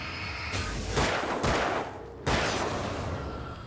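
Gunfire in the video game Alan Wake, a dense run of loud shots and blasts that fills the whole stretch, with a brief lull before another heavy burst near the end; no talking.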